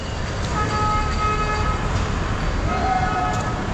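An Indian passenger train sounds its horn among steady rumbling rail and station noise, with faint tonal horn notes rising briefly over the broad background roar.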